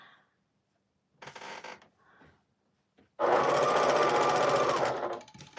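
A sewing machine stitching a quilt seam runs in a steady, loud, close whir for about two seconds, preceded by brief shorter bursts and handling noises.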